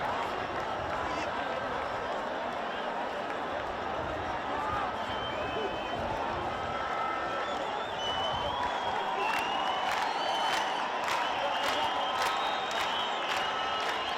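A stadium crowd at the Ethiopia versus Lesotho World Cup qualifier football match, continuous distant roar of the crowd with whistles and shouts rising later, a commentator talking over it.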